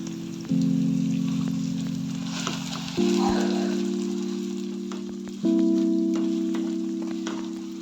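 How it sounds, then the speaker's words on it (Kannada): Aloo paratha filling, with a note of raw smell still to be cooked off, sizzles and fries steadily in a pan, a loud continuous crackle with a steady hum that shifts pitch twice, no voices. "ಹಸಿ ಸ್ಮೆಲ್ ಹೋಗೋ ತನಕ ಫ್ರೈ ಮಾಡಬೇಕು"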